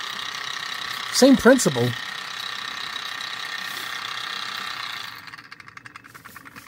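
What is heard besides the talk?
magnetic lab mixer running rough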